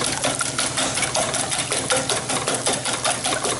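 Eggs with a dash of cream are whisked briskly in a bowl for an omelette, producing a steady, dense run of rapid clinking and swishing strokes that continues throughout, up close and with no talking.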